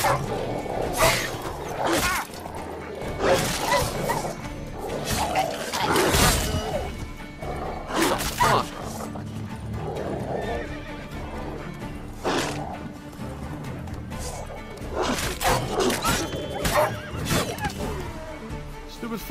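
Chaotic Witcher 3 game commotion as wild dogs attack a monster: repeated sharp crashes and thuds, animal cries and a horse's whinny, loud and irregular bursts throughout.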